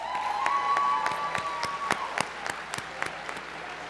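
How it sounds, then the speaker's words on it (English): Scattered hand claps from a small crowd at an awards dinner gala, a brief round of applause with separate sharp claps tapering off. "please join me in a round of applause for all of our chapters and affiliates"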